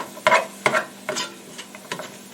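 Ground beef for a large pot of chili sizzles in oil as a spoon stirs and breaks it up, with about five scraping strokes over a soft, steady frying hiss.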